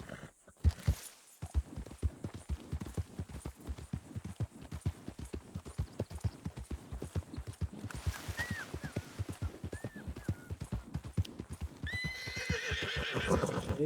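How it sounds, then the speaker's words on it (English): Horse in Red Dead Redemption 2 clip-clopping in a steady trot throughout, with a short neigh midway and a louder whinny near the end, set against low game ambience. "Ele subiu no cavalo e falou, ok, Messi"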